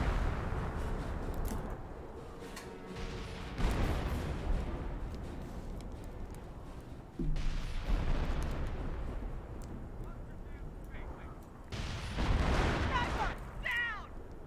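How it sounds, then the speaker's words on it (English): Heavy booming shots and scattered gunfire from snipers and troops in the WWII strategy game Company of Heroes, coming in repeated loud bursts amid a rumbling battle din, with a voice talking throughout. "Both the snipers do pitch in some more shots"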